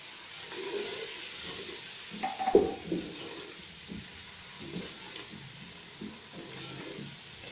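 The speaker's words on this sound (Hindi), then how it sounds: "अब इसको फ्राई करेंगे" Masala for kadhi pakora frying in a pan over a medium flame, giving a faint, steady sizzle with a few soft stirring scrapes near the middle and no talking.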